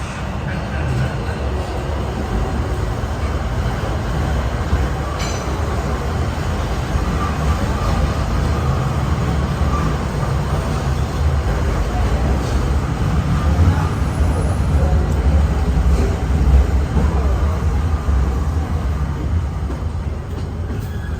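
A steady, loud rumble of a Walt Disney World Railroad train rolling in reverse along the tracks, with continuous clatter and low mechanical noise throughout.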